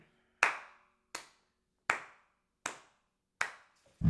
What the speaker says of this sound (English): Let's give Cash Cobain a round of applause for that shit, bro.